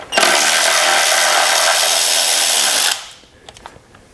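A power tool whirs loudly and steadily for nearly three seconds, loosening fuel injector bolts on a Chrysler Pentastar 3.6L V6 engine. It then cuts off, followed by a few faint handling clicks.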